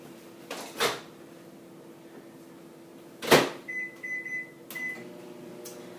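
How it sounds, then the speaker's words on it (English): A microwave oven door thuds shut, a few beeps sound from the keypad, and the oven starts its low, steady hum, all close and fairly quiet. "we're going to toss this in the microwave"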